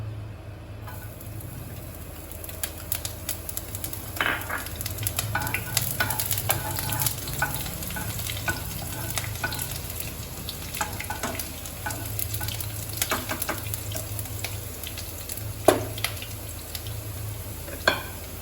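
Green chilies, ginger and garlic stir-frying in a wok over high flame for restaurant-style noodles: a continuous loud sizzle with frequent sharp scrapes and clatter of tossing throughout.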